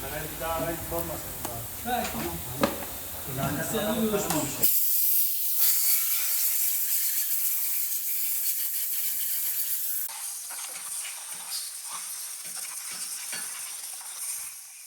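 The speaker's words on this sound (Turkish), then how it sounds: "Benzinle güzelce yıkıyor ustamız." A mechanic washes cylinder head engine parts with petrol during a head gasket repair, giving a steady hissing spray and wash that runs on, loud and continuous, after a short stretch of talk at the start.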